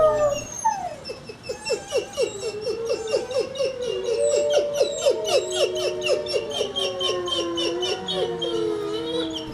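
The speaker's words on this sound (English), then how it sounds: "This next clip of howling is Boltz and Aidan whining next to the fence." Two wolves, Boltz and Aidan, whine beside a fence in a string of high, wavering whimpers and yips that rise and fall in pitch, close and fairly loud, with no speech over them.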